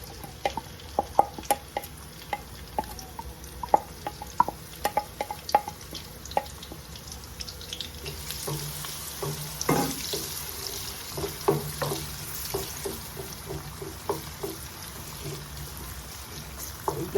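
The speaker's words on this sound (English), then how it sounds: "The next thing to go into this oil now is onions and garlic." Onions and garlic sauté in oil for a festive assorted meat stew, a soft crackling fry dotted with sharp irregular pops and clicks of stirring that grow a little busier in the second half.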